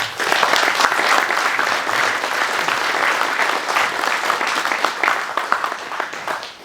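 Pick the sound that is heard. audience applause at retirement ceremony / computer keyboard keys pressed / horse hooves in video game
audience applause at retirement ceremony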